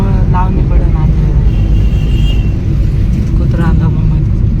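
Car being driven through a village market street and turned around, a loud steady engine and road rumble close by throughout, with faint voices in the background.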